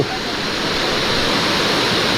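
Water pours steadily into an irrigation canal just repaired after flood damage, a continuous broadband rush like a small waterfall, close and loud throughout with no pauses.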